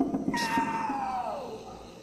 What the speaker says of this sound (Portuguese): Cru, que miado estranho.